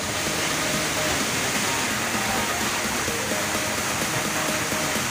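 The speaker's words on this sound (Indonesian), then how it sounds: "Airnya jatuh ke dasar kolam yang berada di bawahnya." Montel waterfall pours into a small pool below, a loud, constant roaring rush of falling water that stays even and unbroken from start to finish.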